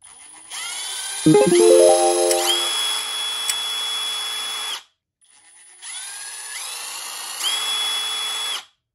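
A Milwaukee M12 Fuel cordless impact driver whines at high speed in its fastest mode 3 in two long bursts, with a brief rattling hammer chatter early on and a short silence between runs.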